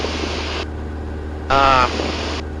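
A small airplane's engine drones steadily in the cabin during flight above 3,000 feet, a constant low hum running beneath people talking.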